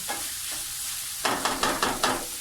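Peas and carrots, with capsicum and cabbage to follow, fry in a pan for macaroni: a steady sizzle that becomes a run of five or six distinct stirring scrapes, close and moderately loud, with no talk.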